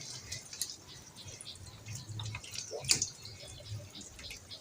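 Small drops of water fall during a water test with calcium chloride, producing faint, sparse drips and light splashes, close but quiet against a soft background hum.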